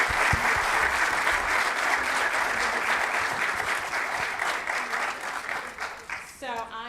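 Sustained applause from a church congregation after a children's show, dense steady clapping that fades slightly toward the end, with a brief voice or tone rising at the close.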